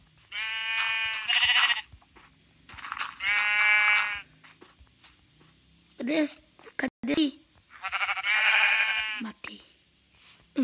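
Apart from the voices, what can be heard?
sheep bleating in Minecraft video game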